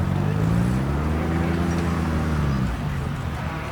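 A military Jeep at a steam rally engine show drives over rough ground, its engine giving a close, steady low drone that eases off toward the end.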